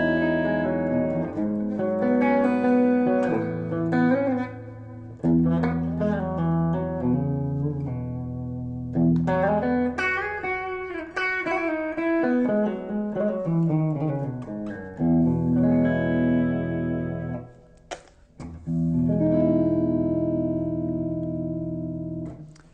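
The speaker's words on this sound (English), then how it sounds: "Let's hear what it sounds like on the bridge pickup." Electric guitar notes and chords on the bridge pickup through a Yamaha DG80 amp, played with a bright, biting amplified tone and a touch of reverb, continuous with brief pauses, no talking.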